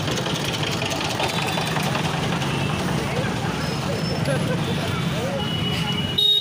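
Busy market street in Belthara Road, Ballia, jammed with traffic: a steady wash of idling and revving car, truck and motorbike engines with crowd murmur, heard close from a bicycle moving through the congestion.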